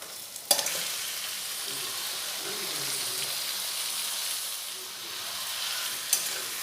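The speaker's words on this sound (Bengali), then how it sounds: "পেঁয়াজ আর টমেটোটা অর্ধেক গলে গেছে, এবার ওতে দিয়ে দেব ম্যারিনেট করে রাখা মাংস" Marinated duck meat fries with half-melted onion and tomato for a village-style duck curry, making an even, hissing sizzle throughout, with a sharp click near the start and another near the end.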